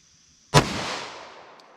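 A single sharp report from a .40 S&W pistol with a 5-inch barrel, loud and close, followed by a decaying echo tail; no voices.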